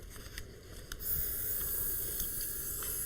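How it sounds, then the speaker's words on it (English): An airbrush sprays dark black food colouring over a decorated competition cake, giving a steady close hiss that starts softer and swells into a continuous airy spray, with no talking. "So just finishing off the cake with a spray of airbrush"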